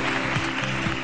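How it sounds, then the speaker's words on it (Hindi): A studio audience on a Pakistani morning show applauds after a cricket match win, dense continuous clapping for a short burst. "सबसे पहले पाकिस्तान के लिए बहुत सारी तालियां"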